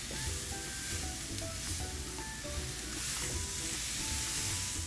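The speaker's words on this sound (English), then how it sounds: "you should sear the sides of the steak itself" A ribeye steak sears in a hot pan, a loud continuous sizzle and crackle of frying fat with scattered spits and pops, close and steady, alone without speech.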